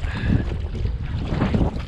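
Strong wind buffets the microphone on Puget Sound from a small 8-foot fishing kayak, a loud, continuous low rumble with gusting swells and some water noise, with no talking.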